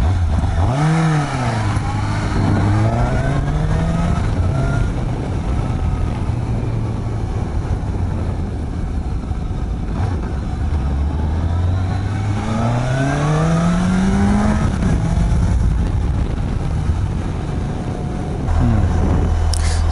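A Suzuki GSX-S750 motorcycle engine revs hard under throttle on a test ride, climbing through rising pitch sweeps, easing off and pulling again, loud and close with steady wind rush and no talking.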